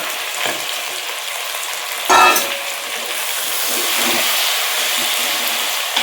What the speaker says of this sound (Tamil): அரை கிலோ தக்காளி எடுத்து வச்சுருக்கேன் அதை போட்டு வதக்கிறேன்